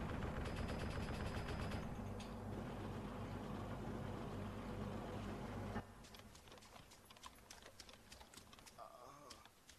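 A tank's machine gun fires in a multiplayer shooter on an airport map, a fast, steady rattle that suddenly cuts off and gives way to scattered sharper shots. A voice talks over it.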